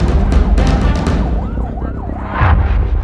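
Inside an ambulance racing a dying man to hospital with two Coast Guard personnel aboard, a wailing siren sweeps up and down over loud road and engine rumble, heard from within the vehicle.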